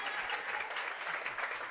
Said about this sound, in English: Show of applause from our crowd